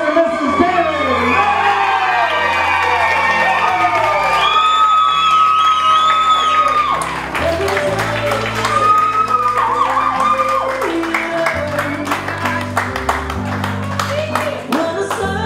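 Wedding reception guests clap, cheer and whoop for the newly married couple as music plays loudly in the hall, the crowd noise mixed under the melody throughout.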